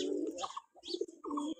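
Farm pigeons coo close by in a few soft, throaty bursts separated by short pauses, with no one talking.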